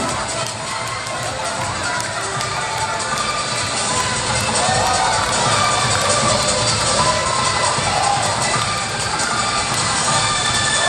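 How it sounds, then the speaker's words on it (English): Crowd cheering at a professional aerobics gymnastics competition, a dense, loud, continuous roar with shouts and whoops that holds steady and swells slightly toward the end. "the crowd cheering to them"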